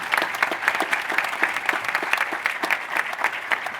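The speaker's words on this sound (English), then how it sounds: "How about we give them one more round of applause?" A large audience at a university presidential investiture ceremony gives a sustained round of applause, with loud, fairly rhythmic clapping that holds steady from start to finish and no talking.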